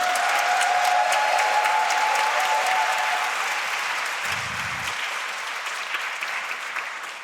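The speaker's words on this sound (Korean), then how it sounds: "다시 한번 박수 뜨겁게 부탁드립니다." An audience at a seminary chapel service applauds warmly, a dense wash of clapping that holds steady and then slowly thins and fades, with a brief low thump partway through.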